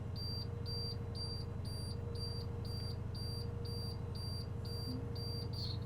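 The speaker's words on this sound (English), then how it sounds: "the low air brake warning light and alarm should go off." A school bus low air brake warning alarm sounds as a steady train of short, evenly spaced high beeps over a constant low idling engine drone, continuous and moderately loud throughout.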